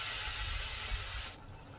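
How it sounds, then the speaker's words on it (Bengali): Water poured into a cooking pan of thickened curry, a brief hissing, bubbling splash that runs strongly, then cuts off abruptly, leaving quieter simmering. "ঠিক এই সময় সামান্য পরিমাণ জল দিলাম।"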